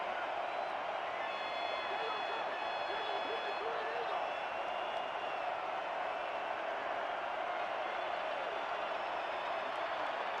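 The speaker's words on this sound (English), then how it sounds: "Crowd gets loud here at Fatherhood Festival Field." A steady, dense roar of a stadium crowd at Fatherhood Festival Field during a simulated Baltimore at Canton football game, holding constant throughout with faint tonal whistles above it.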